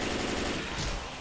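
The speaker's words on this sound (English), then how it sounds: "Even the gunfire is freaking high." Rapid automatic gunfire from the video game Left 4 Dead 2, a loud, dense burst of shots that fills the brief moment with no talk over it.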